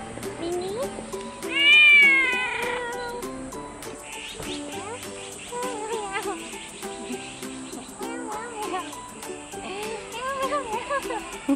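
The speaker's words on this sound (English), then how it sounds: "This is a good kitty." Cat meowing close by, one loud drawn-out meow followed by a string of shorter softer mews, with insects chirping faintly in the background.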